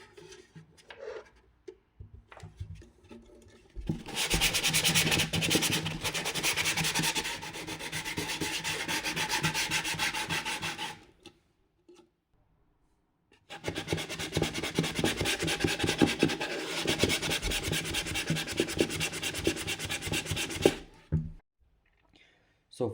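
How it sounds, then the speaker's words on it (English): A cheap wooden ukulele being hand-sanded with 240 grit sandpaper, giving two long stretches of steady, close, scratchy back-and-forth rubbing separated by a brief pause, with only faint handling noises around them. "So finally I'm almost done with sanding."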